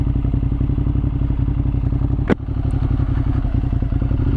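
A motorcycle engine hums steadily and loudly up close during a ride on a fine day, with one sharp tick partway through.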